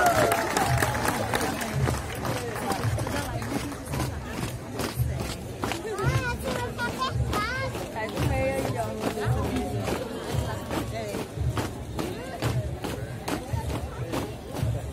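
Townspeople applaud and cheer as a military school's elite platoon parades past the ceremony stage during a town anniversary celebration, a steady crowd roar with clapping and shouts running throughout, voices mixed in.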